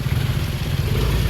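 A motorcycle rides at steady speed, its engine droning loud and close throughout with a continuous low rumble, without pauses.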